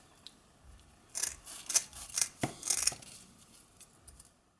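Scissors snip through fibrous natural hanging-basket liner, cutting it into small squares; a cluster of about eight crisp cuts sounds close and clear, with quiet pauses before and after.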